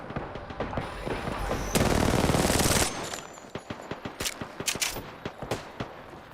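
Rapid automatic gunfire in a video game, with a dense sustained burst mid-clip and then scattered sharp shots and bursts, loud and close.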